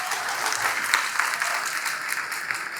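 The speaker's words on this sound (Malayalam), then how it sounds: "എല്ലാവരും നല്ലൊരു കൈയടിക്കാവോ" An audience at a logo launch ceremony claps continuously, a dense, even burst of applause from a sizeable crowd that holds steady for about three seconds.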